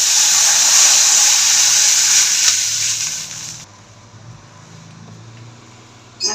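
Water poured into a hot pan of fried mourola fish sets off a loud, steady steam hiss that holds for a few seconds, then drops to a quieter bubbling simmer.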